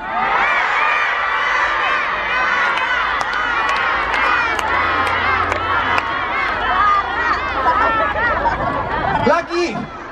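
A large crowd at an outdoor Indonesian music event shouts a singer's name together, a dense sustained roar of many voices with cheering and scattered higher shouts, loud and continuous.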